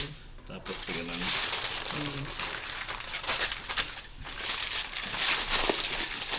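Aluminium foil is folded double and crumpled, a continuous close crinkling and crushing rustle that rises and falls throughout, with a voice speaking briefly near the start.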